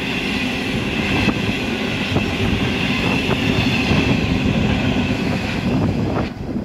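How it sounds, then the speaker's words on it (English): Loud, unbroken rumble of a train rolling past nearby at Unanderra, with rhythmic clatter from the wheels and a light metallic squeal. "Whoa! What train is that?"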